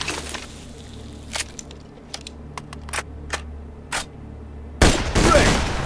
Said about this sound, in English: Switch to another weapon and hit him again.